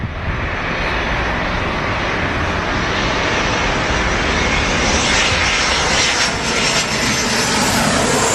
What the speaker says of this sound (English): The ramp can be excessively loud at any time due to aircraft engines and ramp equipment.